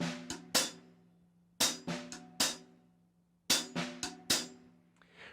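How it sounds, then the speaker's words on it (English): Accented paradiddle sticking on a drum set, with sharp loud strokes standing out among softer taps in a quick repeating pattern of bursts, played alone with no talking. "So now that first paradiddle is going to sound like this."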